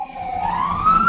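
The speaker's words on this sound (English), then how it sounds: "sirens." Emergency vehicle siren outside, a single rising wail that is fairly loud and steady for about a second.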